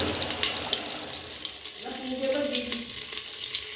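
Asafoetida fried in butter with a little oil in a pan, a steady soft sizzle and spatter heard close up, continuous with no talk.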